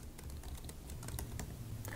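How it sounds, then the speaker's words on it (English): Typing on a computer keyboard, a quick irregular patter of light key clicks heard close and alone, with no one talking. "I'm going to speed this up a little bit so you don't have to sit there and watch me type"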